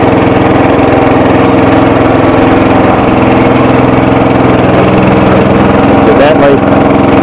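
Lawn tractor engine running loud and steady close by while clearing tall underbrush, a constant mechanical drone with a voice talking over it.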